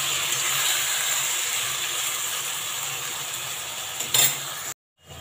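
Spice paste is stirred into flat beans frying in a pan, a steady close sizzle and hiss with scraping stir strokes throughout, a brief louder scrape near the end before a sudden cut to silence.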